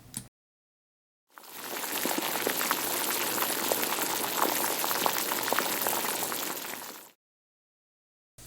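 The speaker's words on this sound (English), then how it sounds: "These meteors contained water, which, upon impact, evaporated into steam, filling the atmosphere." Water hissing into steam as meteors strike, a dense, even bubbling roar that swells in, holds steady for several seconds, then cuts off into silence.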